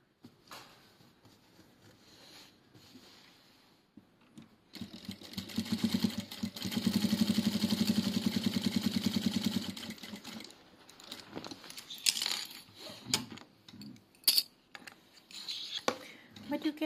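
Sewing machine stitching a quarter-inch seam on a fabric passport wallet slot, a steady mechanical whir in one run of about five seconds at moderate level, framed by quieter handling clatter and light rustling before and after.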